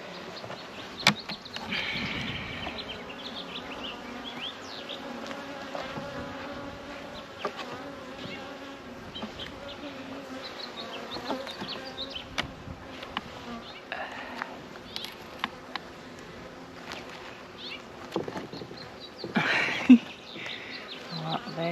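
Honeybees buzzing around an opened hive at an early-season hive check, a steady close hum with individual bees passing near, occasional clicks and handling noises underneath.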